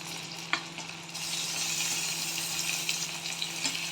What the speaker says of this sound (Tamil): இப்போ அந்த ஸ்டஃப் பண்ணி வச்சுருக்கிற கத்திரிக்காயை போட்டுடலாம்.